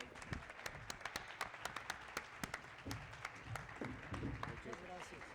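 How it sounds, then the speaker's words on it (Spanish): Faint, scattered clapping rises from the audience of a panel discussion on limits, values and discipline, honoring parents and children present, with voices murmuring underneath. "Un aplauso también para los padres y hijos que están aquí"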